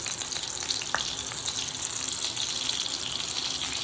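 Ginger and garlic fry in a pan with fennel seeds, giving a continuous close crackling sizzle with fine spattering pops, steady throughout with no voices.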